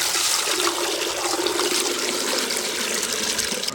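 About six litres of water gush and splash steadily into a metal pressure cooker nearby, a continuous pouring sound with no voices.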